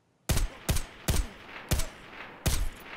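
Five loud, sharp gunshots from M82 ammunition fired in Escape from Tarkov, spaced irregularly over three seconds with short echoing tails and no talk.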